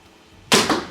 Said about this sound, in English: you're hearing the bow for what it sounds like